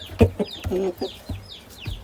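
Adult hens and small chicks in a turkey coop, with a few loud close clucks, a drawn-out squawk and thin chick peeps overlapping in a quick, uneven burst.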